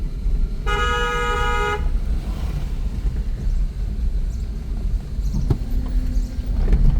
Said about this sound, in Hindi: तो यहाँ पे हॉर्न देना ज़रूरी है।